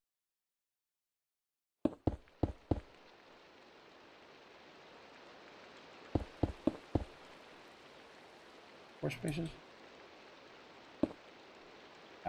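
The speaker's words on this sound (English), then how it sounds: "Raining again. Always raining." Steady rain hiss from the video game Sky Factory 4, a constant wash of falling water heard under a few sharp clicks and brief bursts of speech.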